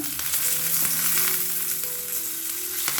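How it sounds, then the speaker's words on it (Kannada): Curry leaves sizzle in hot oil during Kannada home cooking for a quick breakfast dish, giving a steady, close crackling hiss with a few brief sharper pops and no talking. "ಕರ್ಬೇವಿನ ಸೊಪ್ಪು ಕೂಡ ಸೇರಿಸ್ಕೊಳ್ತಾ ಇದ್ದೀನಿ"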